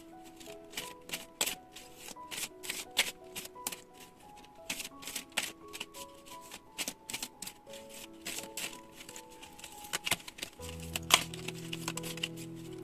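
Tarot cards being handled, shuffled and laid out one by one during a pick-a-card reading, giving close, crisp papery flicks and snaps in an irregular series, with a low hum entering near the end.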